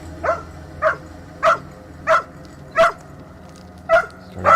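A dog barks repeatedly at a steady pace, around eight sharp, mid-pitched barks at moderate distance over a low background hum.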